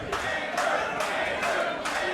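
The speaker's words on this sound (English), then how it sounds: "So the crowd getting behind Andrew here as the chants start" A crowd at a Wimp to Warrior season 3 final fight chants rhythmically for fighter Andrew Koehler. The surges are steady and loud, recurring in a regular cadence that fills the space.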